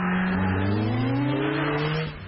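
Ariel Atom engine revving hard up close, its air intake roaring and supercharger whining as it spools, with rising harmonic tones held loud and steady before cutting off at the end.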